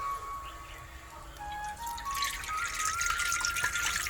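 Water is poured into a kadhai on the stove for making modak dough: a quiet hiss at first, then a fuller, brighter splashing pour from about halfway through that carries on to the end, with no speech.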